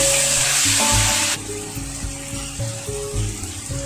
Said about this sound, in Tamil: வெங்காயம் வந்து நல்லா வதங்கிடுச்சு